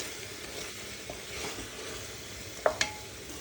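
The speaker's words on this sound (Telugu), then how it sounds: "అల్లం వెల్లుల్లి పేస్ట్, కొద్దిగా మిక్స్ చేసుకోవాలి బాగా కలిసే వరకు." Ginger garlic paste stirred in a pan while cooking tomato bath, a soft steady scrape with faint sizzling, ending in two sharp clinks of the spoon against the pan.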